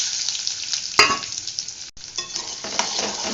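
Onions dropped into hot oil for a Pollachi-style mutton kuzhambu, a sharp burst of crackling sizzle followed by bubbling frying and stirring, close and loud with no talking.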